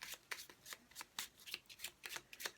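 Tarot cards being shuffled by hand, a quick, soft, rhythmic series of riffling card flicks repeating about every quarter second, close and quiet with no voices.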